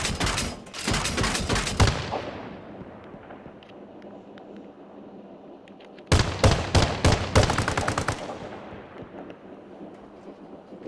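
Bradley autocannon firing APFSDS rounds in the military game Arma: two loud rapid bursts of heavy cannon shots, each about two seconds long, separated by a stretch of fading rumble and echo.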